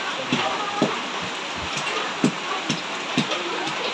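Rain falls steadily on a garden, a dense even hiss with a few louder drops and knocks scattered through it.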